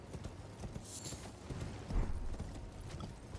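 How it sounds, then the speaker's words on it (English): Horse hooves clip-clop steadily in Elden Ring as a mounted knight's cavalry rides, a fairly quiet rhythmic thudding with faint mechanical clanks and no talk. "It's just a dude on a horse."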